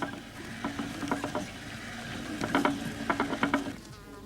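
A big traditional wool spinning wheel turns while wool is spun, its spindle driven by a wool band, giving soft, close, uneven wooden clicks and rattling rhythmic taps over a quiet room.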